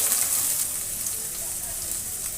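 A hot pan of cauliflower and katla fish curry gives off a steady, even hiss and sizzle for a couple of seconds after a little water is added, with no pauses or louder bursts.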